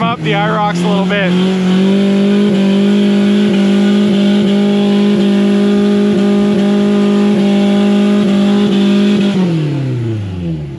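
A rock crawler's engine revs hard off-road, a loud sustained drone that holds steady for several seconds before winding down at the end.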